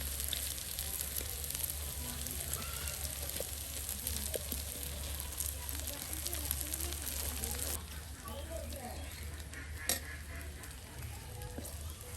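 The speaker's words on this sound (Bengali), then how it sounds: "আর এই যে দেখুন বড়া কিন্তু অল্প সময়ের মধ্যে একদম ভেজে নেওয়া হলো" Fritters of kanai and drumstick leaves fry in hot oil with a steady, fairly quiet crackling sizzle that runs throughout, while someone talks over it.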